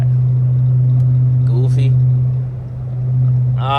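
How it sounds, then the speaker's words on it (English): A widebody Dodge Charger Hellcat with catless mid pipes drones steadily from inside the cabin at low RPM, a deep constant hum beneath someone talking. "the car got a lot of drone when you're not all the way up in the RPMs"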